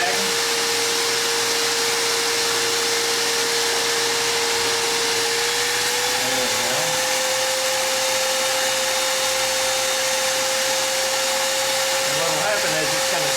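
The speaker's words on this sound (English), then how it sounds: "And I've got the shop vac over the post here. And I'm going to turn that on." A shop vac runs steadily over a seat post, drawing a vacuum to compress the foam of a Ford Maverick seat during a leather seat kit install; a loud continuous whine with a constant pitch persists throughout with no talk.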